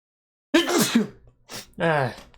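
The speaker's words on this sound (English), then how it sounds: "you made me sneeze." A voice gasps and then lets out a sharp sneeze, followed by a short vocal sound, close to the microphone.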